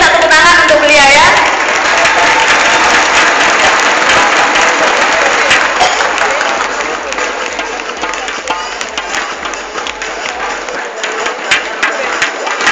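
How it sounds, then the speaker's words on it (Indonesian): Loud audience applause filling a hall, dense and continuous at first, then thinning into scattered claps with crowd murmur and voices mixed in toward the end. "Saya minta tepuk tangan untuk beliau ya."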